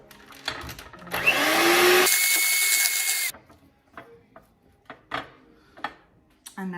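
An electric hand mixer whisks double cream with amaretto in a loud, steady burst of about two seconds that shifts pitch midway, followed by scattered clinks and scrapes.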